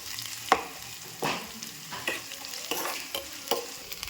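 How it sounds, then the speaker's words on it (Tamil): Curry leaves and ginger garlic paste frying in a pan for spleen curry, with a soft steady sizzle and a few clinks of a stirring spoon at irregular intervals. "கருவேப்பிலை போட்டுக்கலாம். இஞ்சி பூண்டு பேஸ்ட் எல்லாமே போட்டு வறுத்து எடுத்துக்கலாம்."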